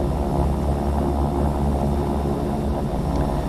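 Twin-engine Cessna 310 in a flight simulator game, engines throttled back for a descent, a steady droning propeller hum at moderate level with no speech.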